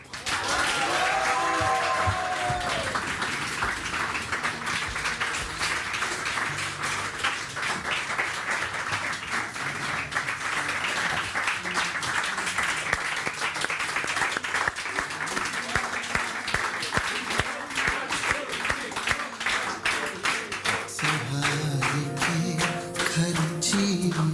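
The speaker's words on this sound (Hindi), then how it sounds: "तो महानूर के लिए बहुत सारी तालियां होनी चाहिए" An audience applauds at a talk-show style event, with dense, sustained clapping that continues strongly throughout, and brief voices and music-like tones near the start and end.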